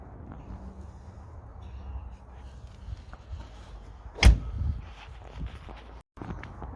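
A 1985 Mexican-built Volkswagen Beetle door being handled during a walk-around, giving one sharp metallic knock or thud midway over a low rumbling background, with no talk.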